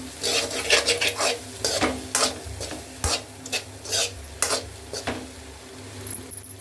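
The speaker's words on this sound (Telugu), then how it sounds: "ఇంకా మొత్తం మసాలా అంతా మిక్స్ చేసుకునేద్దామండి" A spatula stirs masala through egg fried rice in a hot pan, with repeated scraping strokes in an uneven rhythm over a soft, continuous sizzle, close and fairly loud.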